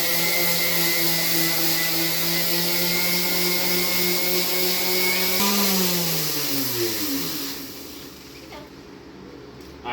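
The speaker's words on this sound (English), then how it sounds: "I'm going to just grab some 80 sandpaper, DA sander, electric DA." An electric DA sander with 80 grit sandpaper runs with a loud, steady whirring hum, its pitch sliding downward as it winds down near the end before cutting off.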